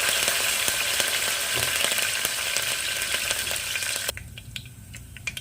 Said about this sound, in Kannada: ಕರ್ಬೇವು ಸೊಪ್ಪು ಸ್ವಲ್ಪ ಹಾಕೊಳ್ತಾ ಇದ್ದೀನಿ ಎರಡು ಒಣಗಿದ ಮೆಣಸಿನಕಾಯಿ ಹಾಕೊಳ್ತಾ ಇದ್ದೀನಿ